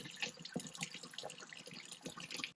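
Tap water runs over a dug antique bottle, rinsing off loose dirt, with a steady splashing wash and a few louder splatters throughout.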